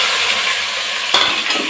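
Onions sauté in hot oil for a pressure-cooker chicken biryani, giving a loud, steady sizzle close by, with a couple of brief clinks near the end as they are stirred.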